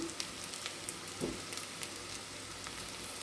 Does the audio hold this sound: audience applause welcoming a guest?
no